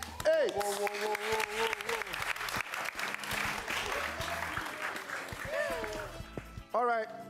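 Audience applause fills a lively studio game show, steady clapping and cheering running under a host's loud talk, with a whoop near the end.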